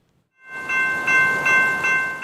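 A train hauling highly flammable Bakken crude oil rolls through downtown Seattle, a loud, close rumble that swells in quickly with steady tonal ringing over it.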